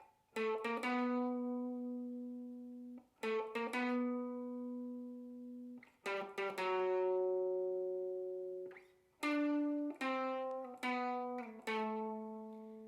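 An electric guitar plays a repeating sequence of clean, ringing notes and short note clusters, in four phrases separated by brief pauses.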